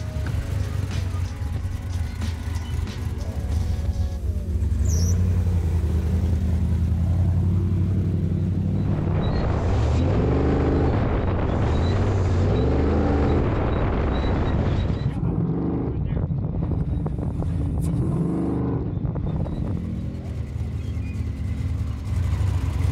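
Off-road race vehicle at King of the Hammers being fired up after tuning for a TPS issue, its engine rumbling steadily and loudly for a long stretch with rising revs and wind buffeting, no talk.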